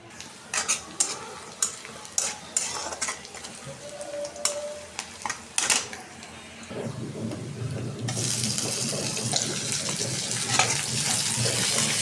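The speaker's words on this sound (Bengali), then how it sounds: "এখন তরকারিটা বসাই দেবো।" Fish curry goes into a hot pan on a home stove: first a run of sharp clinks and knocks, then a steady loud sizzle of frying that fills the rest of the time.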